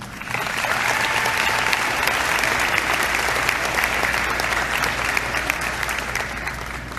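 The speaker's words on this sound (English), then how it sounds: "Please give a round of applause for Nas Menhart." Steady, loud applause from a crowd at a high school signing day for an athlete, a dense wash of clapping holding evenly for several seconds with faint voices mixed in.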